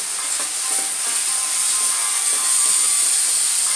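Badam pieces and turmeric powder frying in a pan for a malai kofta paste, heard as a loud, continuous bright sizzle with light scraping and rattling from stirring, close and without any voices.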